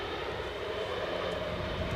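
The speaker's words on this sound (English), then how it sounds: "RB211s feathering up." Rolls-Royce RB211 jet engines on a British Airways plane spooling up at an airport, a steady, loud, broad roar that holds throughout without talk.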